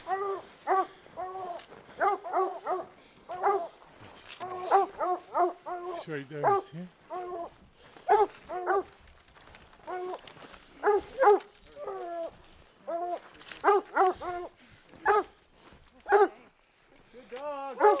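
Hunting dogs bark repeatedly while treeing a cougar on a winter hunt, sharp yips and bays coming in quick bursts close by, with someone talking over and between them.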